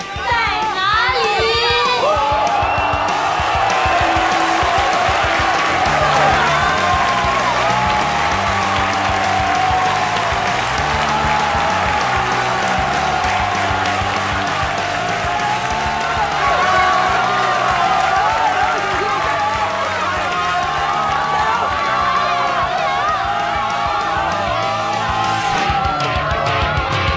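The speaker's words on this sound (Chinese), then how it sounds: "让我们听见你们的欢呼声" Loud applause and cheering from a crowd of family and friends at the final night of an amateur cooking contest, sustained throughout with shouts and children's voices mixed in, and a host's voice over the top.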